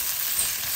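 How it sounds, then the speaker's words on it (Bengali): Ginger-garlic paste frying with already browned onions in a pan gives a steady, close hiss of sizzling oil throughout the short moment, with no voices. "পেঁয়াজ ভাজা হয়ে গেছে, এখন আমি দিয়ে দিচ্ছি 1 টেবিল চামচ আদা রসুন বাটা"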